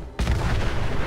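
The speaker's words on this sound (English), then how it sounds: "there are massive explosions going on down here" A loud, sudden explosion from the video game Fallout 4 bursts in after a brief quiet and settles into a sustained heavy rumble.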